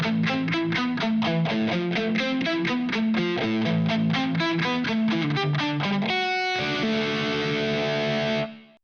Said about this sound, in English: Now with the phaser.